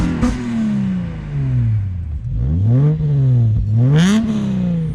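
A tuned Subaru Liberty 3.0R Spec B six-cylinder engine, producing about 160 kilowatts at the wheels, revs up and falls back several times in close, loud sweeping blips, with a slight mechanical clatter between them.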